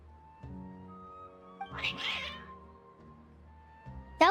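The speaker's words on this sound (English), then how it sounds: "That was a weird meow." A cat in Genshin Impact lets out an odd, drawn-out meow amid soft background music, followed by a brief sharper cry at the end.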